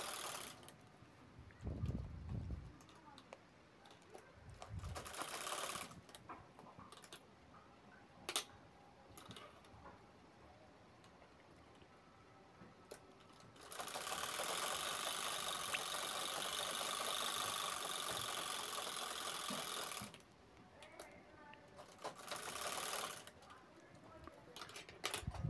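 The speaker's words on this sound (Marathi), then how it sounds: "आता याला पण साईडला पूर्ण शिलाई घ्यायची आहे चारी बाजूनी" A sewing machine stitches all four sides of a jewelry bag made of canvas with lining and foam layers. Brief whirring bursts and ticking give way to one long, steady run of stitching, then stops and restarts in short spurts.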